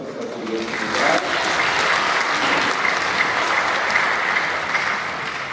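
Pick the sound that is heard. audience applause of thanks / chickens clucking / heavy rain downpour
audience applause of thanks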